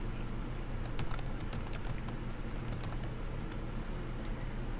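Fingers type a password on a computer keyboard, making a short run of quick, light key clicks that are close and clear over a soft steady hiss, with no talking.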